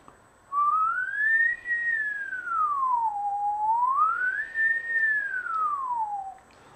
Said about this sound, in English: So you see my whistling really looks a little bit like a sinusoid, like it should.